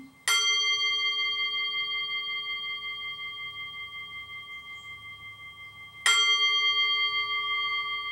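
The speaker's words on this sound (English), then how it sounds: "And you will hear the gong." A resonant metallic gong is struck twice, about six seconds apart, each strike ringing out clearly and decaying slowly in a quiet room.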